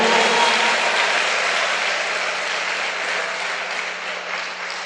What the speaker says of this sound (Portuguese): Uma salva de palmas bem forte.